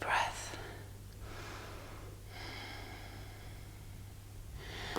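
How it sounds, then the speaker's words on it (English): A slow, deep breath during a yoga session, heard as a soft inhale and exhale in a quiet room with a low steady hum underneath. "Deep breath."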